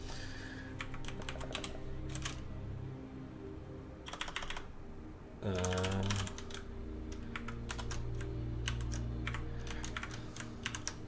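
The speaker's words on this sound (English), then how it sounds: "How do my mechanical keyboard switches sound?" Typing on a Corsair mechanical keyboard, bursts of sharp clacking keystrokes in irregular clusters over a low steady hum, close and fairly quiet.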